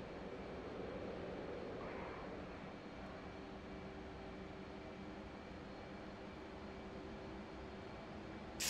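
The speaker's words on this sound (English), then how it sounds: "Full afterburner, we're going to head towards the ground." An F/A-18C jet engine roars on full afterburner in DCS World, a constant dense broadband rumble with a steady whine, loud and unbroken throughout with no voices.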